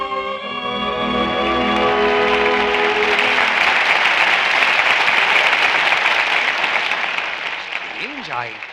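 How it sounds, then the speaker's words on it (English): Loud, sustained audience applause at a radio show, swelling in over music that fades out and holding steady for several seconds before tapering. "I can't imagine where that applause came from, but it was well deserved"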